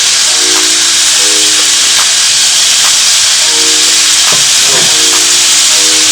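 Meat pie filling with thyme and stock cubes hisses steadily in a pot as it is stirred, a loud, constant sizzle with faint tonal notes beneath and no talking.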